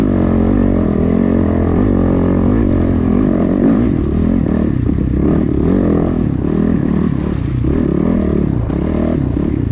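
A motorcycle ridden slowly along an off-road trail gives a loud, close, continuous engine drone with a low, uneven throb and some clattering, and no voices.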